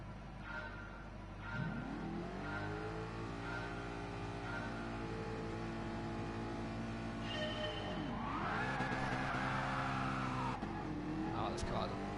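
GT3 race cars launch off the line on Dragon Trail in GT Sport, engines revving and rising in pitch through gear changes with a touch of tire squeal, heard throughout under a commentator's voice.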